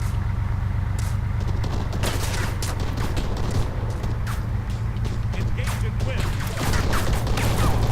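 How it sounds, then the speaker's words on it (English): Rapid bursts of gunfire in the video game ArmA 3 crackle over a loud, constant engine rumble, with shots scattered irregularly throughout. "Ah, first gunfire."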